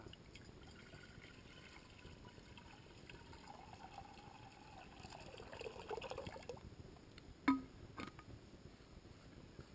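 Water pours steadily into a pot at a campfire, a soft continuous splashing that swells midway, followed by a couple of sharp metallic clinks.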